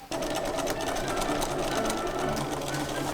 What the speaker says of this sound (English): This is why I do a basting stitch now whenever I attach zippers